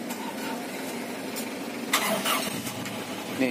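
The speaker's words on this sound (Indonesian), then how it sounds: "Ini hidup nih, bro. Cuman karena dia yang bensin, jadi suaranya tidak terlalu terdengar banget ya." Petrol engine of a 2005 Toyota Kijang pickup starting, then settling into a quiet, steady idle; the start catches near the middle as a short surge, and the running engine stays fairly soft throughout.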